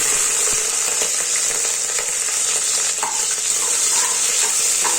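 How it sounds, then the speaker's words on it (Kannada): Mustard seeds splutter in hot oil, crackling and spitting with a dense, continuous spattering of tiny pops, close up and fairly loud, with no voices. "ಇವಾಗ ಸಾಸಿವೆ ಚಟಪಟ ಅಂತ ಸಿಡಿತಾ ಇದೆ"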